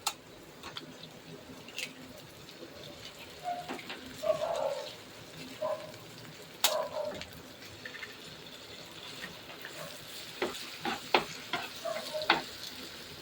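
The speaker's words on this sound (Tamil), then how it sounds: "இது கூடவே முட்டையும் உடச்சி ஊற்றிக்கோங்க" Eggs cracked into a pan of egg rice and frying with pepper, stirred with a spoon: a soft steady sizzle with scattered scraping and clinking taps of the spoon, moderately quiet and close, no talking.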